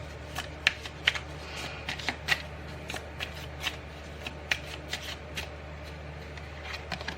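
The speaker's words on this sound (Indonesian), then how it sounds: "Oke, aku shuffle lagi." Tarot cards shuffled by hand in a quiet room during a card reading, a steady run of soft riffling and snapping flicks with sharper clicks scattered throughout.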